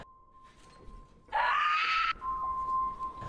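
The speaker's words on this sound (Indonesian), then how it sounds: "Di sana mereka mendengar teriakan wanita." A woman in a Friday the 13th horror film lets out a single loud, sustained scream of terror. A steady high electronic tone plays before and after it.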